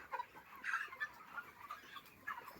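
Broiler chickens on a poultry farm cluck softly in a few scattered bursts, faint and somewhat distant, with no talking over them.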